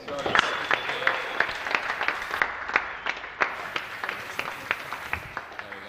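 A small audience at a sim racing championship event claps for a race driver, individual hand claps ringing out distinctly in an uneven patter while someone talks over them.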